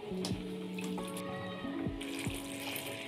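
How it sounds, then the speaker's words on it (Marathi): Water runs from a tap into a bowl of cut eggplant pieces in a home kitchen, a steady close splashing fill with a few light clinks, no talking. "वांगी काळी पडू नये म्हणून मी पाणी घालून ठेवते."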